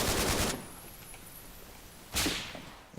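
Two bursts of rapid gunfire from a shooter game AI demo, each a sharp crackling volley about half a second long, separated by a quiet gap, loud and close with no talk.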